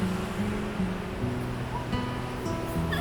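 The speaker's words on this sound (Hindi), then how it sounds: "लहरें आकर मेरे पैरों से टकरा रही हैं।" Ocean surf washing up on the sandy shore of Agadir beach in Morocco, a steady broad rumble of waves close by with constant wash and no voices.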